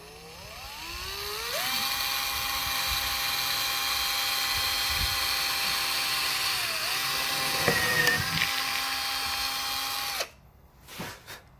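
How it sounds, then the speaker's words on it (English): Power drill boring a quarter-inch hole through the wall of a chest freezer: a steady whining motor that rises in pitch, holds, dips briefly under load, then cuts off abruptly, followed by faint handling noises. "Now we're going to drill the next 1/4-inch hole."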